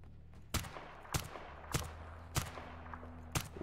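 Muffled suppressed gunfire aimed at a zombie in S.T.A.L.K.E.R. Anomaly, five sharp thuds spaced roughly every 0.6 seconds over a steady low ambient hum.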